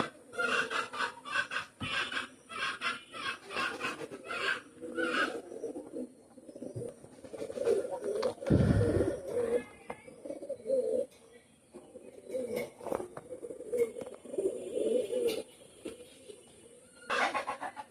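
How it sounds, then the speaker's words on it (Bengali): A breeding pair of racing pigeons, a red-checked Benares hen and a tagged cock, coo softly and repeatedly at close range, low murmuring calls recurring with faint background noise and a brief rustle midway. "এটা আছে অরিজিনাল বাজির কবুতর, রানিং পেয়ার"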